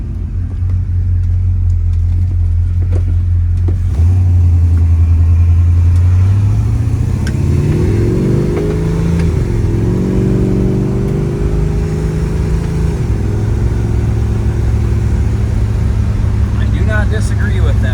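A 1967 Oldsmobile 442 with power steering, brakes and A/C runs and drives, its engine droning loud and close and rising in pitch as it accelerates through gears, with a voice talking over it.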